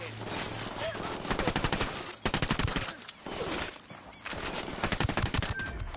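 Automatic gunfire in the tactical shooter Ghost Recon Wildlands: rapid bursts of loud rifle shots come in clustered volleys with short pauses between them, closely overlapping one another.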